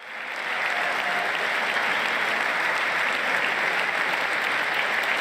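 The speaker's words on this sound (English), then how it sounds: "But here, the etiquette is that everybody claps." Lawmakers in the chamber applaud during the 2022 State of the Union address, a dense, even roar of clapping that swells in within the first half second and holds steady, loud and sustained.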